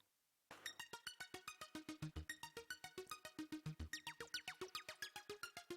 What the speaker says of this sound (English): A little arpeggiator.